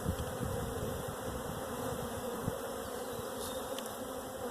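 Honey bees swarm over a hive frame during an inspection, giving a steady, dense buzzing hum that stays close and even throughout, with a few brief individual buzzes standing out and no talking.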